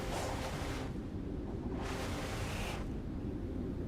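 Steady roaring rush of a waterfall in the video game Sonic Frontiers, broad and continuous with gentle swells, heard alone with no voices.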